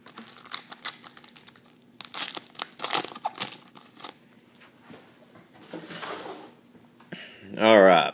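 Foil packs of 2011 Prestige football trading cards are torn open with bursts of crinkling and tearing, close by and irregular, broken by pauses, with a short loud burst near the end.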